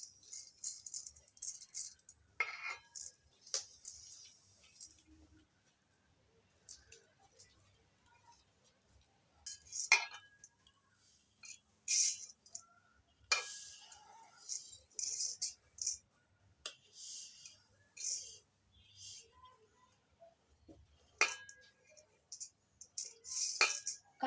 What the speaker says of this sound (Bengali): চাল দিয়ে বীজগুলো ঢেকে দিচ্ছি।